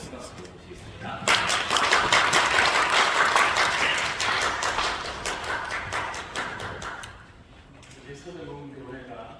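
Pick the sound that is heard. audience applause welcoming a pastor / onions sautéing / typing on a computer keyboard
audience applause welcoming a pastor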